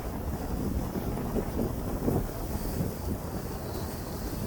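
Continuous waves wash against a stone breakwater on the Lake Michigan shore, mixed with heavy, blustery wind buffeting close by at steady loudness.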